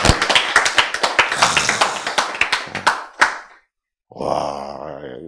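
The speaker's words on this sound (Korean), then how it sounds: "박수." Audience applause at a Korean Bible lecture: a burst of loud clapping with sharp individual claps that thins out and stops, followed after a short silence by a voice speaking.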